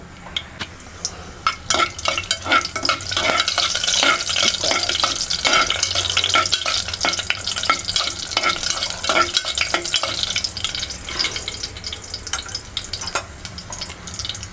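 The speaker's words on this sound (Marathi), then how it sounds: "ते खडे मसाले घेतले ते आता आपण फोडणीला घालूया" Whole spices tossed into well-heated oil for a chicken dish, sizzling and crackling steadily for the whole stretch, with dense popping and occasional stirring clatter, fairly close and loud with no talk.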